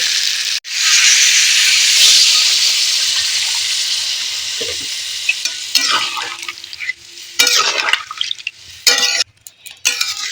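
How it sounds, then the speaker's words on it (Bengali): Water poured into a hot pan of half-boiled potatoes: a sharp burst of steam hiss that slowly dies down, followed by scattered clattering stirring sounds and bubbling. "এবারে আমি জলটা পরিমাণ মতো দিয়ে দেবো"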